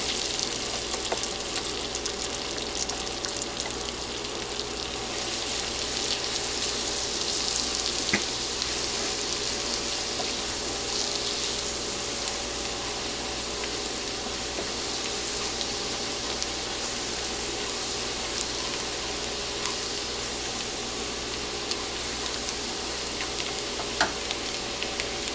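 Garlic frying in hot oil in a pan for Spanish rice, a steady dense sizzle with a constant crackling hiss that holds evenly throughout, close and loud with no talk.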